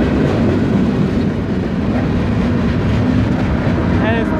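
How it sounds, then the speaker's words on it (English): A southbound freight train rolls past close by, a loud sustained rumble with rhythmic wheel clatter and a brief high squeal near the end, continuous throughout. "Train."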